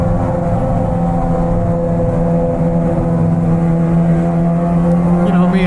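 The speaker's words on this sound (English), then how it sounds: "So we're clicking the clutch and flipping the throttle" A Suzuki GSX-R 600 motorcycle engine drones loudly and steadily up close as the clutch is clicked and the throttle flipped, with sustained wind and road rumble, and a voice talks over it.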